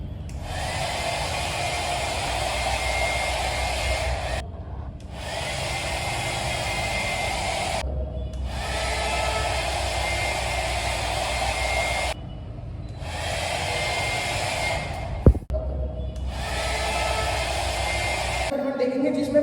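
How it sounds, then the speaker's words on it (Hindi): A hair dryer blows air with a steady, loud whooshing roar that cuts out briefly several times, with one sharp click near the end. "ये हेयर ड्रायर है, यहाँ पर एयर की स्पीड बहुत ज़्यादा होगी"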